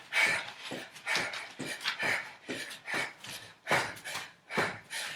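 A dog moves around during a boot camp workout, with repeated bursts of panting, rustling and scuffling sounds at a steady, rhythmic pace, fairly close and moderately loud, with no talk.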